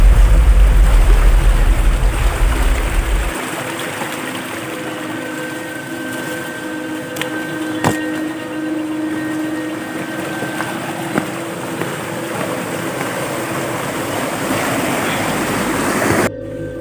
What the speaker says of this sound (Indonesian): Mengiringi air sungai lagi.